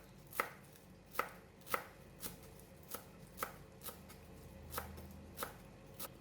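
Fresh cilantro chopped on a cutting board for garnishing Thai steamed fish with lime, about ten steady knife strokes knocking close and crisp, with no talk.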